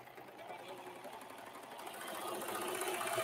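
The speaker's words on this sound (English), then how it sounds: "So I'm going to do a chain stitch now." A serger sewing a chain stitch runs in a steady, fast mechanical whir that builds slightly louder toward the end, with no voices over it.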